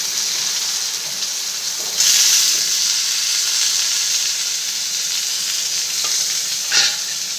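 Bitter gourd (karela) pieces frying in hot oil, giving a steady, close sizzle and hiss throughout, with a few brief louder spurts as the pan is stirred.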